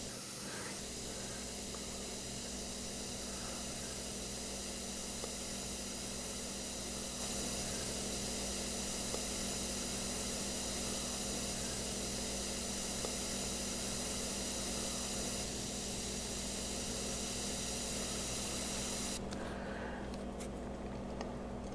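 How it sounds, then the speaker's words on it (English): Gravity-feed airbrush spraying at around 3 pressure, a steady continuous hiss that holds evenly for the whole stretch, close and fairly loud with no talk over it. "I am using the same airbrush. It's a gravity feed."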